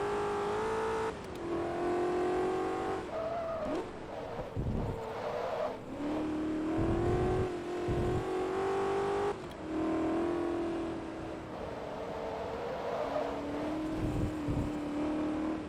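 Shelby Cobra race car in Forza Motorsport 2 roaring through a racing game session, engine note rising and falling with repeated revving through gear changes and brief lifts, loud and close throughout.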